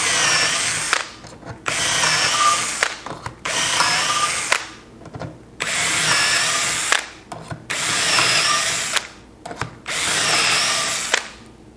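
A power drill bores shelf pin holes through a cabinet side using a drilling jig, in six loud, evenly spaced bursts of whirring with short quiet pauses between them.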